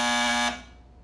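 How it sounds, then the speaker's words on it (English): A cartoon buzzer sounds with a loud, harsh, steady electric drone for about half a second, then cuts off and leaves a short fading tail. "Now, Dennis, if you need anything, just buzz this buzzer and I'll come running."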